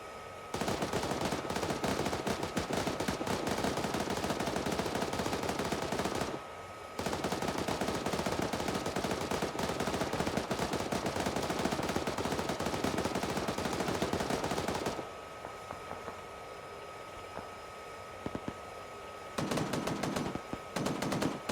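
Coaxial machine gun of an M1A1 tank in a military video game, firing long sustained bursts at close range with brief pauses between them, loud and dense with no talk.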